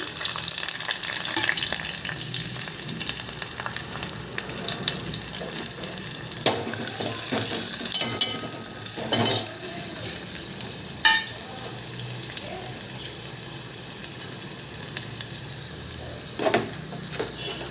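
Green chili and onion fry in hot oil with whole spices in a pan for a poached egg gravy, a steady close sizzle with occasional stirring scrapes and clinks, without talk.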